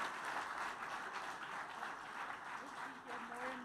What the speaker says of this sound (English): this session deserves a generous round of applause